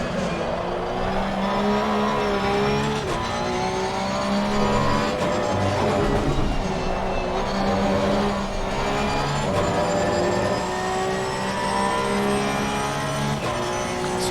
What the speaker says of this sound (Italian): Sto bruciando la gomma.